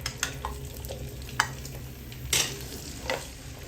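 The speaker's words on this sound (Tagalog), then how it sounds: "ipiprito muna natin yung ating mga yung patatas, carrots, tsaka yung ating saging na saba. Mainit na yung ating mantika." Potatoes, carrots and saba bananas frying in hot oil for pocherong manok: a steady close sizzle with occasional stirring clatters and spoon scrapes, no voices.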